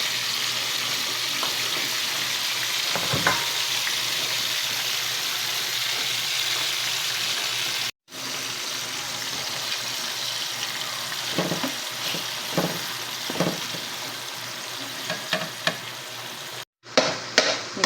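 Ground meat for a spaghetti sauce with onion and a little fish sauce fries in a pan, with a continuous loud sizzle broken by two brief gaps and repeated scraping stirs of a utensil.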